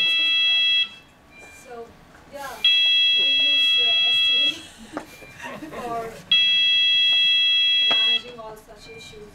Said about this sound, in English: Sorry, that was the alarm. It goes off every hour.